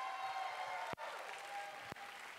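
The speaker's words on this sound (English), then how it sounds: "Give it up for them. One more round of applause." Applause from an audience at an a cappella event, a steady wash of clapping with two brief dropouts and nobody talking over it.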